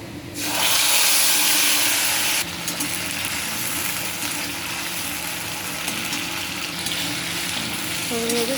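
Tomato paste hits hot oil already fried with dried red chilli and black cumin for a coriander-leaf katla fish curry, bursting into a loud, dense hiss that eases after a couple of seconds into a steady, slightly quieter sizzle.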